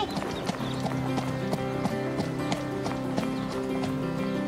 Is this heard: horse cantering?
yes